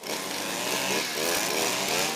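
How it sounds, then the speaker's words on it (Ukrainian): Municipal workers' motorized grass trimmers buzz in a continuous loud whine on the streets of Orikhiv, a war-damaged frontline town. The engine note wavers slightly as the cutting load shifts. "Комунальники працюють, дзищать косарки та шорхотять мітли."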